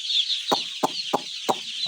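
Chickens give a few short, sharp clucks at a steady spaced rhythm, close by, over a constant high hissing hum.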